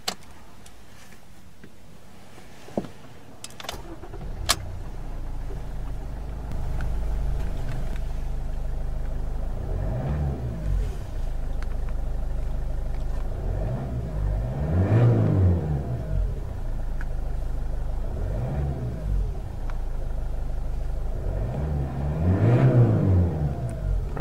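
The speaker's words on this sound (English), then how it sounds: "let's power on the Auris and see how it sounds" A 2013 Toyota Auris starts with a brief crank and catch, then settles to idle before being revved several times, each rise and fall of the engine building to a louder peak, heard close with no talking.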